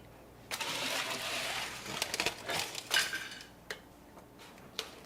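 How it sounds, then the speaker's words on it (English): A pan of breaded olive-oil chicken is slid into the oven, giving a burst of metallic clinks, scraping and clatter from the pan and rack, with a few sharp knocks toward the end, close and moderately quiet. "I'm going to stick it in the oven."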